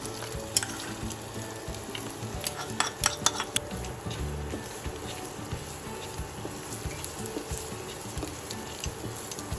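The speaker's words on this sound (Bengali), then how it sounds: "রসুনটা একটু ভাজা ভাজা হয়ে এলে" Chopped garlic fries in oil in a pan with green chillies, a soft steady sizzle under frequent clinks and scrapes of a spatula stirring against the pan, fairly quiet and without speech.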